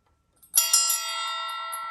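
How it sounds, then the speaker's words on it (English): A single close, clear strike of a small hand bell after a quiet moment, followed by a bright, ringing tone that sustains and slowly fades, with no voices. "I already cleared the area with my beautiful bell here."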